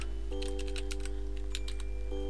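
Computer keyboard typing during a web development tutorial: a rapid run of light key clicks in irregular bursts over a steady low hum, with no talk.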